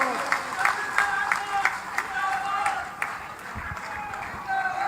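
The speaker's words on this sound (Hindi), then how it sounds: "इस ओर से उस छोर तक ताली बजनी चाहिए।" A crowd at a large village political rally in Churu applauds for about five seconds, a moderate, continuous patter of many hands with occasional sharper claps and some murmuring mixed in.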